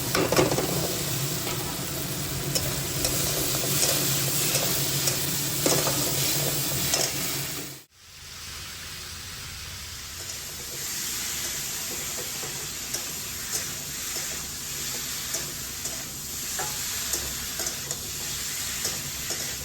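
Spice paste sizzling and being stirred in a pan on a home stove, a steady frying hiss with scraping strokes that cut out sharply about midway and then return more quietly.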